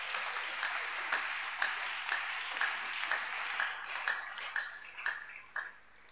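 A church congregation claps steadily in a reverberant hall, a broad wash of applause with slightly uneven bursts that thins toward the end.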